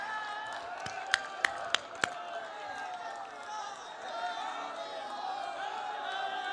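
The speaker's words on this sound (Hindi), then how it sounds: "तालियों के द्वारा अभिनंदन करते हैं।" Crowd at a political rally in Bihar clapping and cheering, a dense sustained roar of applause with a few sharp, louder claps near the start, steady at moderate level throughout.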